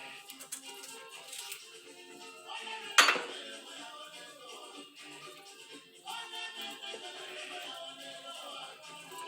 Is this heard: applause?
no